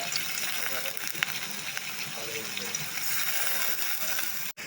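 Lentils (dal) tipped into hot oil and fried spices give a loud, steady broadband sizzle and gush that fills the whole stretch and cuts out abruptly near the end.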